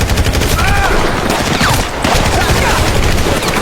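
Dense, rapid gunfire rattles continuously in GTA 5 gameplay, loud and close, with overlapping automatic bursts and a brief dip near the middle, under a game soundtrack.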